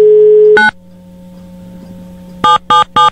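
Telephone dialing on a radio show: a loud steady tone cuts off, then a low dial hum follows, and a fast series of three evenly spaced keypad beeps comes up loud and close.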